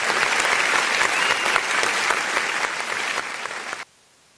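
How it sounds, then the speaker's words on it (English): Steady, dense clapping from a crowd fills the space loud and close, holding for several seconds before it cuts off abruptly to near silence. "let me clap for them"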